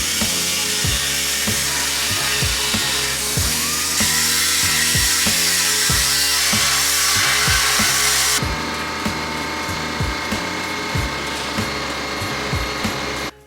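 A power cutting tool grinds steadily through a car's sheet metal panel, making a relief cut on a BMW E28, harsh and loud, with repeated rhythmic pulses as the blade bites, then continues slightly changed.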